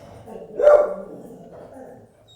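A dog guarding the house barks in a short burst, one loud close yap or two, then settles into a lower background with faint murmuring and household noise.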